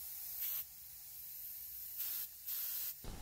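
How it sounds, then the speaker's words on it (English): Bursts of Fluid Film undercoating hissing from a spray gun into a trash can, three short sprays separated by a steady background hiss from a leaking air compressor. "Just test out that pattern, make sure I'm getting a decent amount of fluid film out of there"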